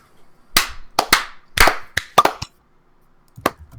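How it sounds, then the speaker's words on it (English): A run of sharp hand claps for recording sync, about eight crisp claps in an uneven burst, then a single clap after a short pause, close and loud with no voices. "let's do clapping and sync up"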